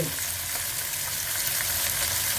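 Snow peas and scallops stir-frying in a hot pan, a soft, even sizzle with faint stirring movements, close and uninterrupted by talk.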